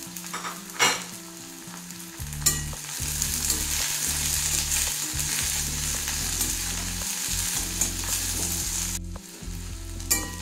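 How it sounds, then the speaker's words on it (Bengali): Sliced onion and green chillies frying lightly in oil in a pan, a steady broadband sizzle with stirring scrapes and spoon knocks throughout, fairly close and with no talking. "পেঁয়াজটা হালকা ভেজে নিয়েছি, এর থেকে আর বেশি ভাজার দরকার নেই"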